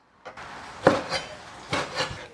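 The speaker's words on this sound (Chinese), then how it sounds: "切小坨小坨的啊" Knife chopping lamb meat into small chunks on a wooden board in a home kitchen, several sharp separate thuds and scrapes spaced unevenly over a couple of seconds, close up and clear with no talking.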